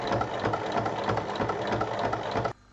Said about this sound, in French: on va refermer les ouvertures en faisant une surpiqûre tout autour